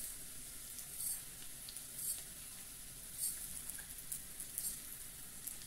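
Washed white rice, two cups, drops into a hot pan of onions and sets off a steady sizzle with recurring bright splashes of frying at roughly one-second intervals. Close and moderately loud, with no talking.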